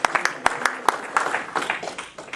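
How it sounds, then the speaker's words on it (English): A church congregation claps in a brisk, uneven rhythm, sharp hand claps ringing out close by while voices murmur underneath. "give the Lord the clap offering in the house of the Lord."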